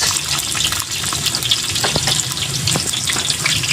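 Garlic and onion sautéing in a pan outdoors, the start of duck cooked in coconut milk, make a loud, continuous hissing sizzle with scattered crackles and pops.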